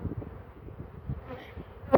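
Honeybees buzz close by at a hive, a low droning hum with uneven pulses and a brief louder burst near the end, with no talking.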